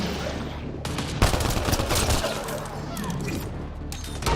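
Enemy gunfire crackles in rapid, overlapping bursts throughout, with a sharp louder volley early on and steady shooting that continues to the end, with voices in the background.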